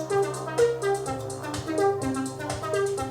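An Elektron Syntakt drum machine plays through Overbridge on individual tracks, giving a busy electronic pattern of repeated percussive hits and short synth notes in a steady groove.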